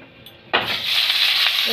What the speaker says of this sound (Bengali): এবার দিব ফোড়নে পেঁয়াজ।